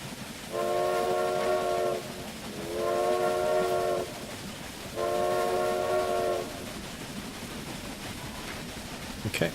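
Train horn in the Railway Empire video game blasts three times in even, sustained tones over a continuous low rumble of rolling rail traffic.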